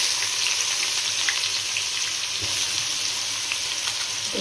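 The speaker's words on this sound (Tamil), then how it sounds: "இப்போ நம்ம வெங்காயம் போடுறோம்." Sliced onions sizzle loudly in hot oil with fennel seeds in a kadai, a steady bright crackling hiss with occasional pops and stirring scrapes.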